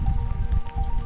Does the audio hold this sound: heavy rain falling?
yes